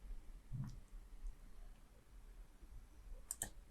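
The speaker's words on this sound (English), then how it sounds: "right click on that layer" Computer mouse right-clicks while working on a Photoshop layer: a soft click near the start and a sharper double click near the end, close and quiet against faint room hiss.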